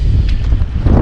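Strong wind buffeting a hill summit in foul, wet weather, a loud, low rumbling roar battering the microphone close up, with no talk.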